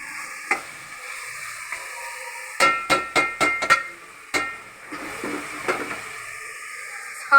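Gobhi and chicken roasting in a pan, with a soft sizzle under sharp metal spoon clacks and scrapes as the dish is stirred, a quick burst of several knocks in the middle.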